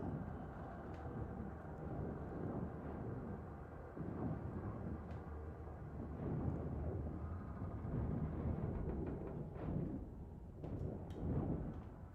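Distant thunder from lightning in the clouds rolls low and rumbling through a dense, continuous background, swelling gently in a few broad waves without sharp cracks.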